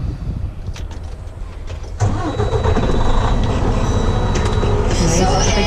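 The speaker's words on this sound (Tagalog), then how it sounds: "Start ko yung truck." A truck engine cranks and catches about two seconds in, then settles into a loud, steady idle with a thin whine over it, heard close from inside the cab.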